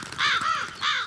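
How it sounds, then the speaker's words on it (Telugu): Crows caw outdoors, two drawn-out harsh calls separated by a short pause, fairly clear and close with no voices over them. "కాకులు."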